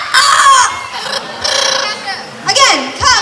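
A trained bird at a Cebu safari bird show mimics a rooster's crow in a few rising, warbling calls, repeated over a few seconds with short gaps between them, loud and close.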